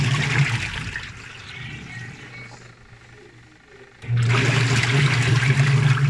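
Water drains from a Sharp twin-tub washing machine with a drain problem, a rushing, gurgling flow that thins to a quieter trickle, then surges back loudly and steadily for the last two seconds.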